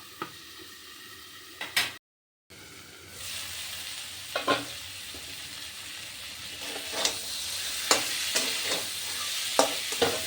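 Fish curry masala with tomato sizzles and hisses in a pan, with intermittent stirring scrapes and clinks, the frying noise swelling louder toward the end after a brief dropout.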